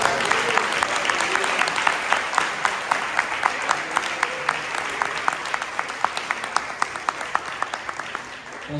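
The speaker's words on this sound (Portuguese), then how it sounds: "Quem pode aplaudir ao Senhor?" A church congregation claims for the Lord at a worship service, loud sustained applause with a regular pulse of sharp rhythmic claps running through it, a voice briefly audible beneath.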